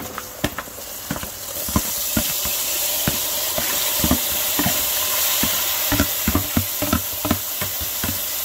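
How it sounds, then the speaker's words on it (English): Breadfruit and soaked saltfish go into a hot curry pot, setting off a loud, steady sizzle laced with frequent sharp knocks and scrapes of stirring, close up and without voices. "So I'm gonna come in next with the breadfruit and the saltfish. I'm gonna add them now."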